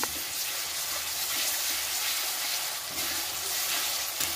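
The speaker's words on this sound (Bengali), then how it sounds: "আবারও ভালো করে কষিয়ে নেবো যাতে আদা রসুনের গন্ধটা বেরিয়ে যায়" Meat with ginger garlic paste frying in a pan, a loud continuous sizzle as it is stirred, with no pauses.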